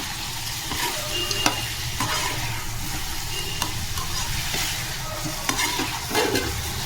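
Onions fry with a little turmeric for chicken fry, a loud continuous sizzle with occasional clicks and scrapes of a spoon stirring close by.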